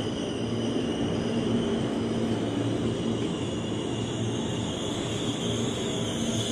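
A KRL commuter train rolls past on the Bogor line, a continuous loud rumble with steady wheel and motor drone held at close range for the whole stretch.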